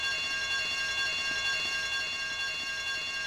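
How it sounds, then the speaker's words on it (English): A building alarm bell in the Vice City video game rings continuously and loudly at an even level, a dense metallic clangour with no break and no voices. "I told you not to touch that alarm!"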